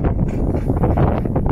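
Strong outdoor wind buffets the microphone near a brush fire in scrubland, a loud, low rumbling roar with gusty fluctuations and no talking.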